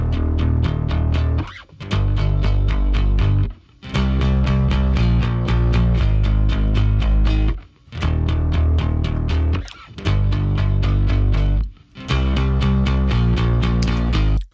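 Distorted, crunchy bass layered with a clean regular bass in a pop-punk production, playing loud sustained phrases in about four-bar chunks with short gaps between them.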